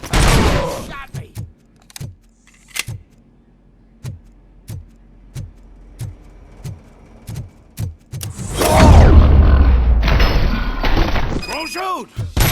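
Gunfire in the video game Robocop Rogue City: a long series of evenly spaced single shots, followed by shattering and a loud crashing roar, with voices shouting during it.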